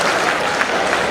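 A crowd at a political gathering for a chief minister claps together in dense, loud applause that carries steadily through the whole moment.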